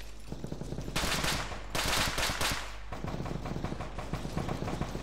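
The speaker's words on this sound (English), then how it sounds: "Them Yanks, they firing" Bursts of automatic gunfire from American troops in a military video game, sustained rapid rattling volleys with short pauses, loud and fairly close.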